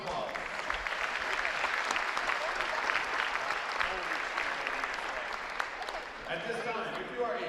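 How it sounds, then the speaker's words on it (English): Sustained crowd applause fills a basketball gym for the game officials at a Rockford game, steady dense clapping throughout that eases slightly near the end. "Please give our officials a round of applause."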